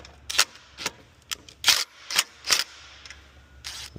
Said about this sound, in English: 13mm socket takes off this lock nut right here.